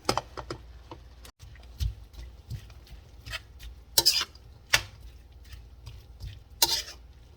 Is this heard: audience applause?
no